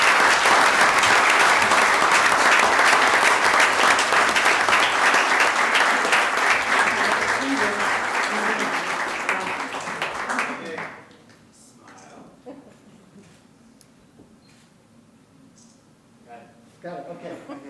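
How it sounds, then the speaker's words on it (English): A crowd at a Waukegan city council meeting applauds volunteers with dense, loud, steady clapping for about ten seconds, which then breaks off into a quieter room with faint scattered sounds. "So please give them a round of applause."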